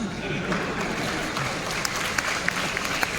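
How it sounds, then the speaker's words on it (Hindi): Audience applause at a sales team training meeting in Kolkata, a steady wash of many hands clapping at moderate volume with sharper individual claps toward the end. "अरे कितने बार बजाओगे आप? दयानंद सर तो कुछ ज्यादा ही बजवाते ताली।"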